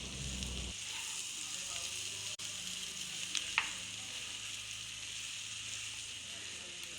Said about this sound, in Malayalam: ആവശ്യത്തിന് വേപ്പില ആഡ് ചെയ്ത് കൊടുക്കാം. എന്നിട്ട് നന്നായിട്ട് മിക്സ് ചെയ്യാം.